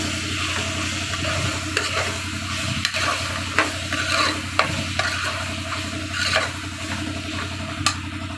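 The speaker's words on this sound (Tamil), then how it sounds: "இப்போ மசாலாலாம் போட்டு ஒரு ரெண்டு நிமிஷம் போல் நல்லா வதக்கியாச்சு" Masala for mutton curry sautéed in a pan, a steady close sizzle with a low hum underneath and regular scraping strokes of the spatula.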